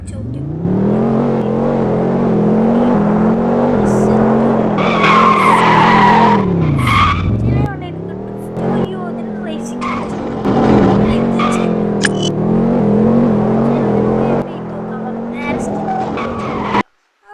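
A car in Extreme Car Driving Simulator revs hard and skids, its engine whine climbing and dipping through gear shifts while tyres screech in bursts. The loud, close sound runs continuously, then cuts off abruptly at the end.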